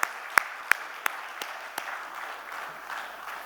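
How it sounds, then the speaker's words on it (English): Audience at a school conference open house applauds a panel. A few sharp, separate claps start it off, then a softer, diffuse patter of applause continues at moderate distance. "A big round of applause to the panel sitting over here"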